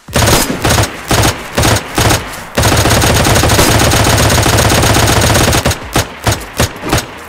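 Gunfire in DayZ during a base raid: several separate loud bursts, then a long sustained stream of automatic fire, and a final run of quick evenly spaced shots, all close and loud.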